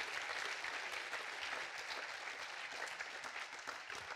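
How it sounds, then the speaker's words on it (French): A tech conference audience claps for the speakers at a closing keynote, a dense, continuous wash of many hands heard at a distance, even and unbroken throughout. "On peut tous les applaudir"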